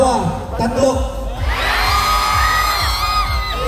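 A large street crowd at the Metro Manila Film Festival 2024 Parade of Stars lets out a loud, sustained shout and cheer on cue, with overlapping yells and whoops.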